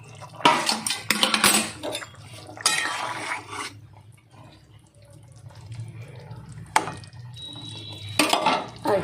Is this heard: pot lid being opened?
yes